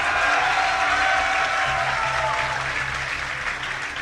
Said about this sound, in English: give a cheer for ThorZaIN